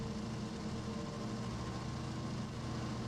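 EMD SW switcher diesel locomotive in the Railroader game, its engine running as a steady, low rumbling drone with a constant heavy hum throughout, no voices over it.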